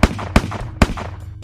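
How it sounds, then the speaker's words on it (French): Gunshots ring out inside a villa: three sharp, loud reports with short reverberant tails, spaced roughly evenly about half a second apart, with no voices. "Peu de temps après, 4 coups de feu résonnent dans la villa."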